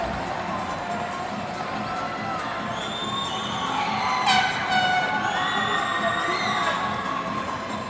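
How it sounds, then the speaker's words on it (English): Large crowd at a boys' provincial high school volleyball championship roars and cheers loudly and continuously, rising midway with shrill whistles and horn-like toots over the dense crowd noise. "Big crowd here tonight, Missy."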